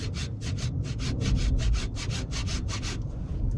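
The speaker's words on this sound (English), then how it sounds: "Grab the handy dandy hacksaw." A hacksaw rasps back and forth in quick, even strokes, about a dozen close-up scraping passes in a steady rhythm.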